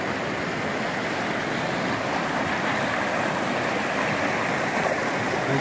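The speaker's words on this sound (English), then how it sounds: "I just love the sound of the running water." Continuous rush of running water from a nearby stream in Alaska, a steady broadband flow with no voices.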